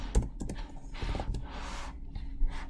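Typing on a computer keyboard: a quick run of close, crisp key clicks and clatter in uneven bursts, with no talking.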